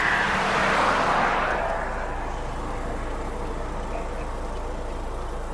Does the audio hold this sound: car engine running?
yes